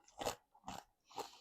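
Three loud, close crunches of tortilla chips loaded with creamy vegan queso blanco made with nutritional yeast, each bite a sharp crackling burst separated by short pauses, with no talking.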